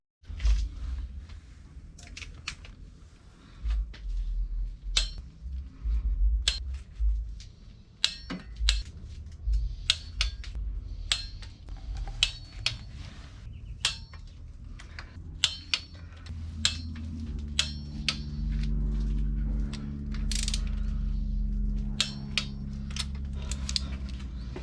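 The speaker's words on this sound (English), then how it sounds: "after that I'm gonna start to torque down the cylinder head" Cylinder head nuts on a DSM engine being torqued down with a ratchet: a long run of sharp, separate clicks and clacks at irregular spacing, fairly close, with a low steady hum underneath and no talking.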